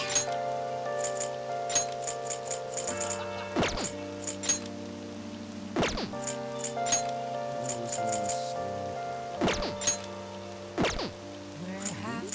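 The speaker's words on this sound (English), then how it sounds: "Rain, huh?" Rain in the Persona 5 video game, a soft steady patter with scattered clinking drops, set beneath sustained musical tones and occasional sharp ticks across the whole stretch.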